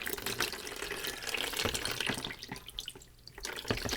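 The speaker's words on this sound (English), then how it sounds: "which I will very carefully pour over this just to rinse it off." Warm distilled water, a full liter with no soap, pours steadily over a vintage Commodore VIC-20 circuit board, a continuous close splashing stream with drips and trickles, no voices.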